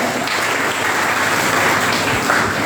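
Steady, dense applause from a seminar audience at a book launch, with many hands clapping together. It is close and even throughout and has no talk over it.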